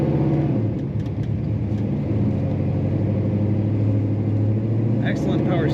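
A 1969 Pontiac GTO hardtop, a Judge tribute, drives and corners with a steady, loud engine drone and road rumble inside the cabin, holding an even note with a brief higher rattle near the end.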